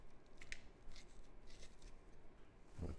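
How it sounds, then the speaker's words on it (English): An acorn squash is scooped out from the top, giving faint, close scraping and rubbing strokes in a few short bursts, with a soft bump near the end. "I have an acorn squash here. Go right through the top and scoop out"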